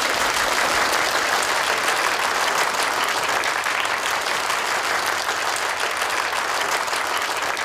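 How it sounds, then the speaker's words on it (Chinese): Sustained, dense applause fills a company's 20th-anniversary celebration reception as the president is welcomed to the stage, steady and loud throughout without letting up. "掌声欢迎"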